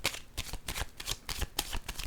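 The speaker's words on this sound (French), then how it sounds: "je vais piger une carte" Oracle cards being shuffled and drawn, a rapid run of crisp riffling card flicks close up and fairly quiet, with no talking.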